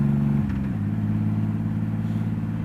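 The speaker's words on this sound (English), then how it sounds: "I don't know whether the mic's picking it up, but the bike is noisy." Loud, deep engine drone from a 2014 Triumph Rocket 3 Roadster motorcycle running without a baffle, dropping in pitch early on and then holding a steady, throbbing rumble while riding.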